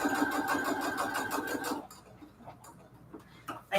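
A sewing machine stitching Christmas pockets for junk journals, a fast rapid whirring run that stops abruptly, followed by a few quiet mechanical clicks and ticks.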